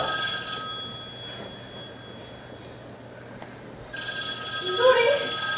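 An old-fashioned telephone bell rings onstage during a student theatre performance, with a short burst near the start and a louder sustained ring returning near the end, carried by faint room ambience.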